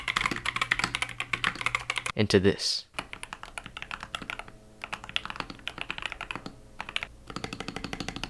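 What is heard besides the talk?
typing on a GK61 mechanical keyboard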